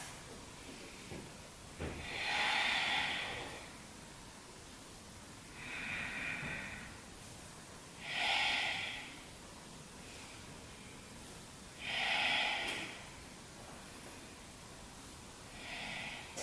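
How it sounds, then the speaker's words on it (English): Steady rhythmic breathing during a Hatha yoga leg-lifting sequence, with soft airy exhales swelling and fading about every three to four seconds, close and alone with no talk. "We'll be here for about 15 rounds of breath."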